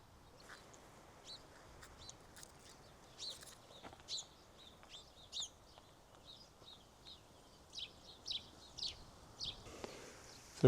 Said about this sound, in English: Lots of sparrows calling in here.